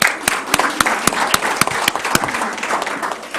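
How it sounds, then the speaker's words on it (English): Applause from a modest crowd at a youth city council meeting, with a few loud, sharp individual claps standing out in a steady rhythm over the general clapping. "Let's give a round of applause for our city council members up here."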